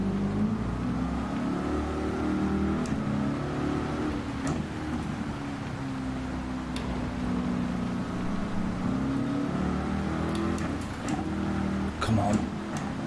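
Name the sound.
race car driving in video game Gran Turismo 7, Nordschleife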